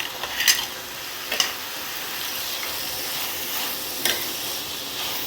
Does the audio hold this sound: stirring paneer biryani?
yes